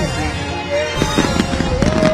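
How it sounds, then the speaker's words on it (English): Fireworks bursting over the Bangkok riverside, a run of sharp crackling pops and booms growing denser toward the end, close and loud, with excited voices cheering over them. "Every fireworks is looking so beautiful."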